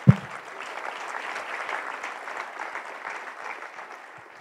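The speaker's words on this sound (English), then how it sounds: "Round of applause for Johnny" Audience applause at a digital nomad summit talk, a dense steady clapping from a crowd that starts at once and carries on evenly for several seconds before easing slightly, with no voices over it.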